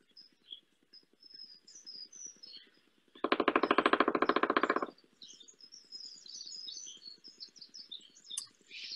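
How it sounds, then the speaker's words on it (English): A pileated woodpecker drums in one rapid, loud burst lasting under two seconds, set against ongoing insect trilling and scattered bird chirps. "what this pileated woodpecker just did was what's called drumming"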